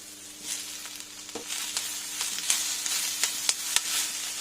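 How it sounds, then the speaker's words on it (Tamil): Soft sizzling of chopped tomato frying in a pan with faint scraping and stirring clicks, quiet and steady, no voices. "தக்காளி ரொம்ப வதக்க வேண்டியதில்லை, கொஞ்சம் வதங்கினா போதும்."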